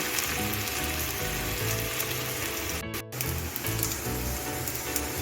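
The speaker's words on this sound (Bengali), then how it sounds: "এখন আমি ডোনাটগুলি ভেজে নেব" Potato and semolina donut snacks fry in a pan of oil over a medium gas flame, giving a steady dense sizzle throughout with a brief dropout near the middle, no talking.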